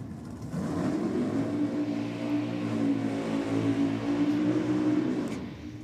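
A drag racing car engine roars through a run at a championship round, a sustained mid-pitched drone that swells quickly and holds for several seconds before fading, heard at some distance.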